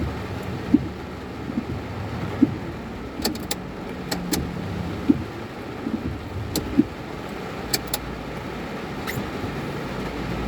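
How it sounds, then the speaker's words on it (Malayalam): Heavy rain in the Kolanchery area, heard from a parked car as a dense, steady wash of noise broken by occasional sharper taps and knocks. "കോലഞ്ചേരി ഏരിയയിൽ നല്ല മഴ."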